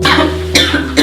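Three harsh, loud coughs from a person in a cough syrup commercial, one long hacking cough followed by two sharper bursts, close and dry with no talking.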